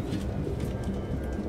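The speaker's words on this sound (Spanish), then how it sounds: "Ningún humano viviría con esas putas palomas" Pigeons coo repeatedly in Detroit: Become Human, soft throaty calls pulsing in a steady rhythm over a low, constant background hum.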